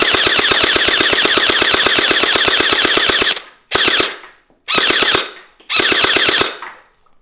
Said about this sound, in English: Definitely sounds a lot different with that huge fake suppressor on there.